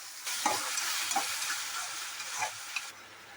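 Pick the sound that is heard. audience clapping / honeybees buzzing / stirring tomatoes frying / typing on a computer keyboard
stirring tomatoes frying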